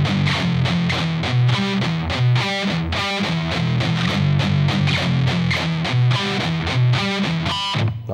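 Heavily distorted electric guitar plays a chugging power chord riff, with steady repeated chords and short single-note accents, loud and alone with no talking.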